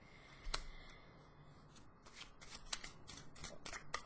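Tarot cards are shuffled by hand, a soft papery riffle with scattered light snaps and clicks. The sound is faint and close, with no talking.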